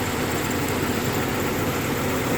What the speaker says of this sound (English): What I'll do now is I'll start the car, show you the engine running